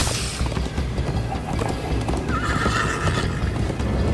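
A horse in the Minecraft Story Mode video game neighs loudly over steady galloping hoofbeats and a dense background of game noise, the whinny rising clearly in the middle of the stretch.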